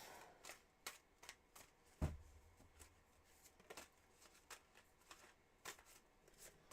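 Quiet, close shuffling of a tarot deck, with rhythmic card riffles and flicks repeating about every half second and a soft thump partway through.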